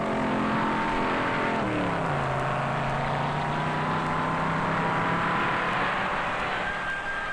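Ford stock cars roar away from a pit stop in a race, a loud sustained engine drone with rising pitch as the cars accelerate, continuous crowd-and-track wash behind them.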